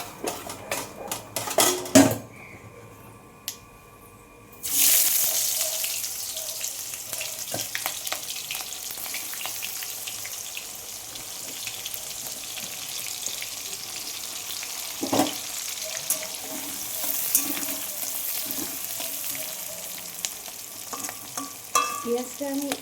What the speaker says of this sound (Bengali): পেঁয়াজ দিচ্ছি।